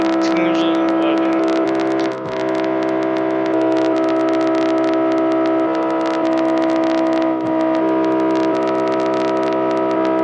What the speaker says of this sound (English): Let's hear what it sounds like close by when it's like revving up.